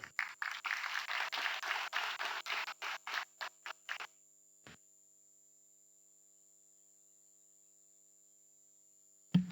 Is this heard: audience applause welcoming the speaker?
yes